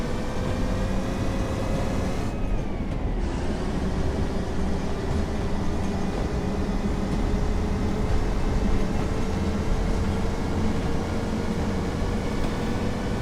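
A Provincial Class 142 Pacer train rolls along the line toward Ormskirk, a steady loud rumble of wheels and engine from inside the carriage, with a brief shift in tone early on and no voices.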